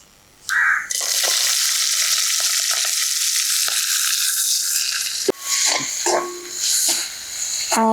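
Onion and chili hit hot oil with fennel seeds in a loud burst of frying, a steady broad crackle that rolls on for several seconds, then breaks into scattered stirring scrapes and sputters near the end.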